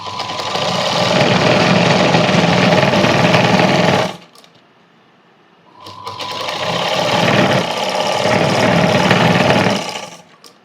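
A sewing machine stitches a cross-cut blouse in two loud, close bursts of rapid steady whirring, separated by a short quiet pause of about two seconds.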